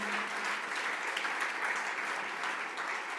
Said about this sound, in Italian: E qui l'applauso deve essere bello grande.